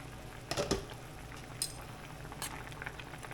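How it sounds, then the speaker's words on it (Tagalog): Water boils in a cooking pot meant for fish, a low steady bubbling broken by a few close clinks of a pot or utensil, fairly quiet and with no talking. "kumukulo na po siya"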